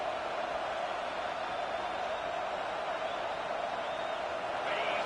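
A stadium crowd roars in a college football video game, a dense, steady wall of cheering and noise held at an even level throughout, with no distinct individual voices standing out.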